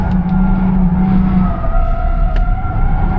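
Tesla Cybertruck sliding in Baja mode on a track: a loud, steady drone of motor and tire noise throughout, with a sustained tonal whine that wavers as the truck drifts.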